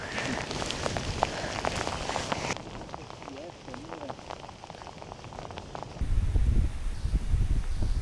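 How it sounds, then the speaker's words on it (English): Hail comes down in a storm outdoors, a dense, constant patter of hard pellets striking surfaces nearby. The rattle grows heavier and rumbles near the end, and someone speaks over it. "It's hailing."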